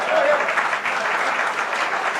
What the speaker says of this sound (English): I wasn't meaning for y'all to clap more on that one